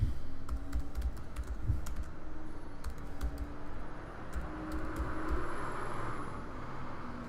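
Typing on a computer keyboard, a string of light, irregular key clicks and taps, fairly close, over a low background hum without speech.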